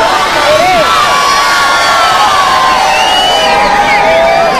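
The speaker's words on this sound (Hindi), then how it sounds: "दर्शकों की ओर से यहाँ पर चीख और चिल्लाहट पुकार जो आपको सुनाई दे रही है" Dense crowd of spectators at a wrestling bout in Malegaon, Maharashtra, shouting, whooping and cheering loudly and continuously, with many overlapping high voices and shrill calls filling the whole span.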